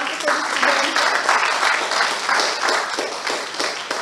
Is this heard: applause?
yes